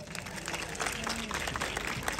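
A crowd at a college film promotion event for the Punjabi movie Rose Rosy Te Gulab claps in a soft, distant, continuous patter for about two seconds, with a faint background hum.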